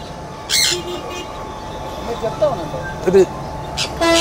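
Short, harsh sun conure parrot squawks break out twice, over a steady background hum, with a person talking nearby.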